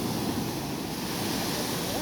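Ocean waves washing onto the shore at Bagasbas Beach, a steady broadband surf roar with wind noise buffeting the microphone, loud and continuous throughout.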